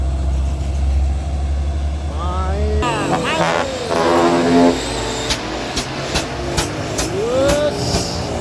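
A tanker truck's diesel engine roars as it climbs a steep grade, a loud continuous drone with shifting pitch and a few sharp clicks. Brief voices come in over the engine.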